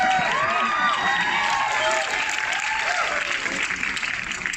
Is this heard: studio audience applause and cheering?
yes